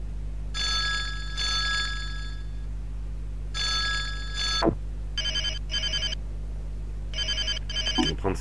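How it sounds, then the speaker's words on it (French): Several different electronic phone ringtones in the video game Silent Hill: Shattered Memories play one after another, first a long trilling ring, then short beeping chirps in pairs, with brief clicks between them. "Oh là là, elles sont toutes pourries ces sonneries."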